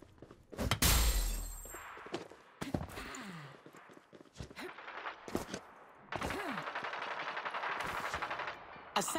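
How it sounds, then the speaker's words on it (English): Bursts of rapid automatic gunfire and single shots ring out in a Hyper Scape battle royale match, loud and close, with sharp cracks scattered across the moment. "No, I'm under fire."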